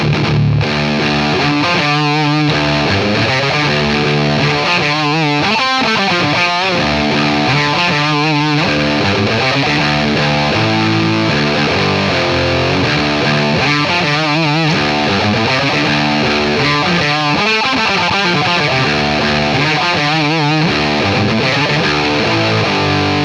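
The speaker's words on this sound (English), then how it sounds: "Man, that is a sweet sounding distortion." An electric guitar plays chords and riffs through a Donner mini distortion pedal with the gain nearly maxed, producing a thick, saturated, fuzzy tone that plays alone, steady and loud throughout.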